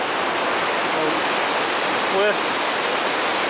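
A river waterfall in the Porcupine Mountains rushes in a loud, steady broadband roar of falling water, close and continuous, with a brief spoken word heard faintly over it.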